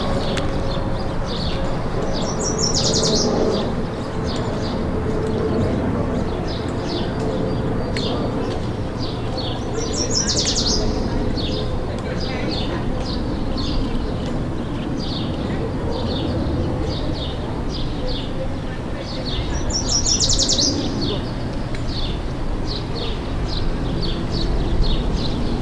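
Birds sing outdoors beside a cloudy Montreal walking trail, bright chirps and whistled phrases recurring every few seconds over steady wind and ambient noise.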